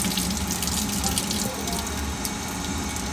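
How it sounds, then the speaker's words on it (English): A pump forces coolant through a coolant filter, producing a continuous loud rushing, gushing flow of liquid, close and steady throughout with no talk. "there we are forcing basic coolant through the coolant filter by the force of that pump"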